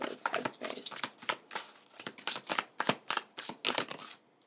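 Tarot cards being shuffled by hand, a quick series of close riffling and flicking bursts in an uneven rhythm, fairly quiet with no talking.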